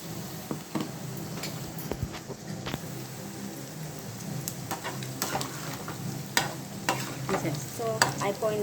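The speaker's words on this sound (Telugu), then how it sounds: "డీప్ ఫ్రై బాగా అయిపోయాయి" Prawn pakoda deep-frying in oil in a village kitchen: a continuous bubbling sizzle with scattered pops and crackles, close and steady, with no talking.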